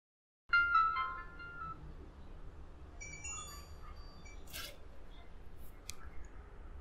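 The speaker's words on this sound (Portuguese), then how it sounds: "Aqui tem o toque 1, toque 2, notificações." A W55+ smartwatch ringtone playing at its lowest volume, a faint, brief run of melodic electronic tones followed by quieter chirps against a soft room hiss.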